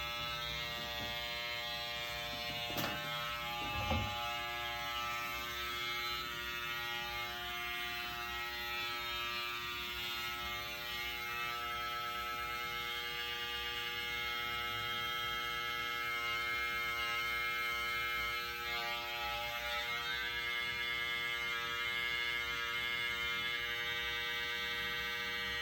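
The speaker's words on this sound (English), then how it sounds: "I like to use the corner of the clipper so that I can get this area." Electric hair clippers cutting a hairline, a steady close buzzing hum with a strong tonal whine that runs unbroken throughout, with faint contact changes as the blade's corner works along the edge.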